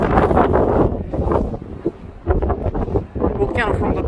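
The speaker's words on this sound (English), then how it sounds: "So a bit windy." Strong gusts buffet the microphone on open palagonite ground near a lava field and volcano, a loud, uneven rumbling roar that swells and eases continuously.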